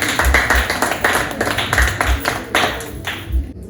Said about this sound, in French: Vous applaudissez d'abord.